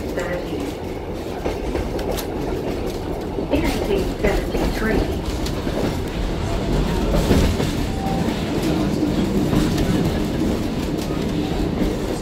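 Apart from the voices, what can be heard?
Kuranda train running on rails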